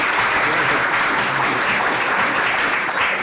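An audience at a 2016 university panel event on the refugee crisis gives a dense, continuous round of applause, steady and fairly loud from start to end.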